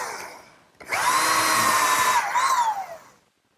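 A power drill drives screws into a 2x4 front standard of a gardener's workbench frame, one sustained loud whine of about two seconds that dips briefly near the end, with quieter handling noise before it.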